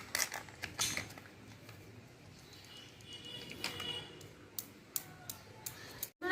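A spoon clinks sharply against a pan in scattered strokes while milk powder is mixed into milk, with quieter stirring in between and birds cooing softly in the background.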